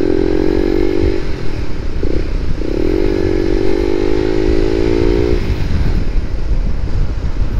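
A Suzuki Raider 150 Fi motorcycle engine drones steadily at close range, its pitch shifting as it runs, with heavy rumble and wind buffeting throughout.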